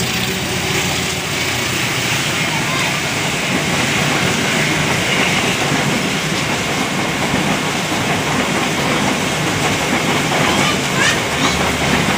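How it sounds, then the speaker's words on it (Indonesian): Serayu train rumbling past steadily in heavy rain, a loud continuous roar of wheels and downpour with faint rhythmic clatter throughout. "Kereta api menembus hujan"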